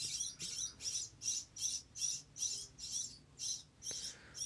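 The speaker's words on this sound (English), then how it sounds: "There's a lot of baby birds being real loud." Baby birds chirp loudly in a steady rhythmic series of about ten high, shrill bursts, evenly spaced and fairly close, with no talking.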